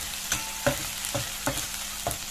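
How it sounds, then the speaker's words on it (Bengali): Ginger and garlic stirred and frying in a pan, a steady sizzle broken by about five distinct scrapes of a spatula at regular intervals, close and clear with no talk. "আদা রসুন দিয়ে দিলাম একসাথে। তো এগুলোকে একটু নেড়ে নিলাম"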